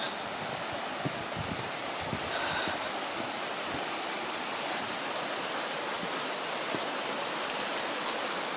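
Heavy water rushes beneath a bridge in a continuous, dense roar, steady and close, with no voices over it.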